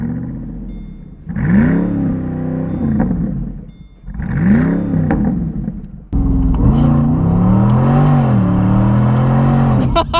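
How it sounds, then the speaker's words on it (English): A Mercedes SLR McLaren's exhaust with a resonator delete roars through repeated throttle blips, each rising and falling, then settles into a loud, sustained, burbling rev close by. "the exhaust has a lot to say for itself in terms of how damn good it sounds"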